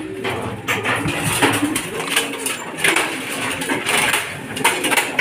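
Pigeons returning home from a race out of Tarlac and Talavera coo in soft, repeated phrases, mixed with scattered clatter and flutter nearby.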